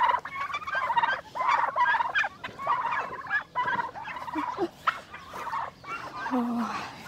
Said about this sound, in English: Hi, turkeys.